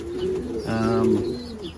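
A pair of young blue bar Pomeranian pouter pigeons in a loft gives a low, throaty coo, one rolling call close by over soft background hum.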